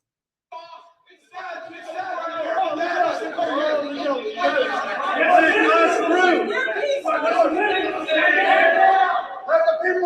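A huge crowd of protesters at a presidential inauguration, dense roaring chants and shouting voices filling the air continuously, loud and close, with scattered individual yells rising above the mass.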